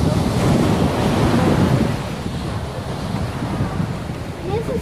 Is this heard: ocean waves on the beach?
yes